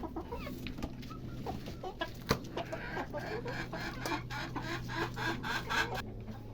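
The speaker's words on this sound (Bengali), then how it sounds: "এখানে আমার দেশি মুরগি কয়টা আছে এগুলোকে ছাড়বো" Several native country chickens cluck and murmur nearby in a busy, irregular chatter, with a low steady hum underneath.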